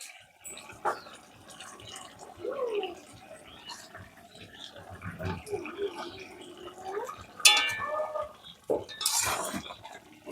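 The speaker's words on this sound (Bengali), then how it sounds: "ভালো করে নেড়ে দেব।" A spoon scrapes and clinks against a pot while stirring a jackfruit and fish-head curry, with scattered metallic taps and a louder clatter toward the end, mixed with some watery sounds and intermittent talking.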